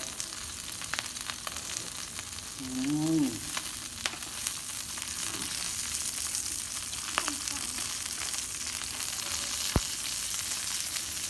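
Meat sizzles and fries in a portable grill pot with a soft, steady crackle throughout, a brief scraping stir partway through and a few faint clicks.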